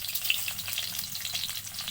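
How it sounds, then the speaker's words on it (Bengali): Eggs coated in turmeric and chili fry in hot oil in a wok, a close, continuous crackling sizzle with small spitting pops and no talking. "ডিম ছেড়ে দিচ্ছি"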